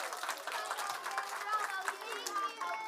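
An audience at a church children's program closing gives a brief round of applause, dense clapping with crowd noise and some voices mixed in throughout.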